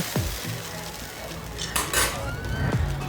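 A spoon scrapes and clinks against the pan as a small hilsa and sweet pumpkin fish curry with hot water is stirred, giving a few metallic knocks over a soft bubbling background, close up and with no talking.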